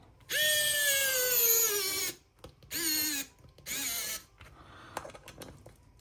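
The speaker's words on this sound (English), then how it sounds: "it removes screws very nice" A CreationSpace CS0802A electric precision screwdriver backing out screws: three bursts of high, whining motor buzz, the first long and the next two shorter, with faint clicks and handling noise between them. No one speaks.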